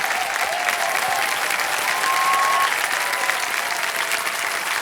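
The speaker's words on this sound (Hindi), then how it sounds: "जोरदार तालियां रंजू जी के लिए।" Studio audience at the KBC quiz show applauds a female contestant on the hot seat, a dense, steady wall of clapping sustained throughout with a faint tone gliding through it.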